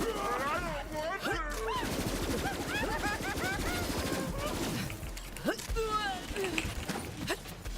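Rapid sniper and automatic gunfire in Borderlands 3 crackles in bursts throughout a hectic firefight, layered with game effects and voices talking over the shots.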